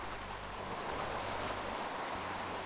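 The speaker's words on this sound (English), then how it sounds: "the waves is breaking" Ocean waves break along a shore, a steady, distant wash of surf under a faint low rumble, with no one speaking.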